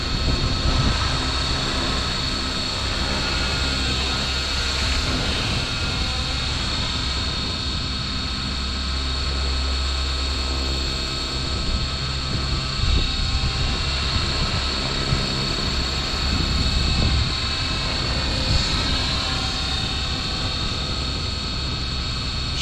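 Align T-Rex 550X RC helicopter flying in high angle flight mode, a steady whining rotor and motor drone with a strong high tonal band that holds loud and continuous throughout, slight swells as it maneuvers.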